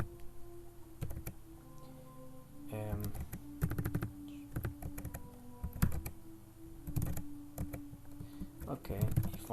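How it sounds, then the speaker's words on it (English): Fingers type on a laptop keyboard in quick irregular bursts of close, crisp key clicks, with someone speaking intermittently over the tapping. "if I type this"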